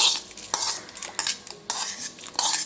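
Rice and ghee being stirred into boiling milk in a pot, a spoon scraping and clinking against the metal in repeated irregular strokes, close and fairly quiet with no talk.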